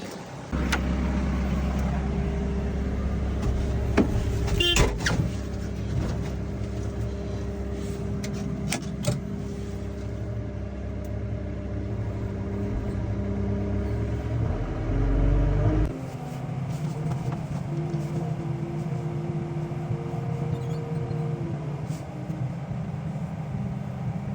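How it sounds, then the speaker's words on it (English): A truck is moved beside a forklift: a steady low engine rumble runs throughout, with a few sharp knocks early on, then a shift in the engine tone partway through as the vehicle moves. "we're gonna go ahead and move the truck and get this forklift to move it"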